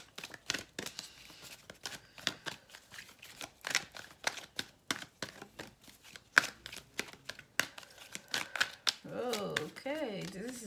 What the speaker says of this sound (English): I just did a little shuffling on camera and allow the cards to come out